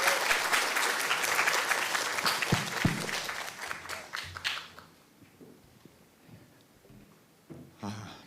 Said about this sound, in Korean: 우리 큰 박수로 모시겠습니다.